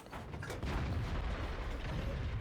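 An artillery gun fires in World of Tanks, a single deep, booming shot that swells into a loud, sustained rumble lasting a couple of seconds, with no voices.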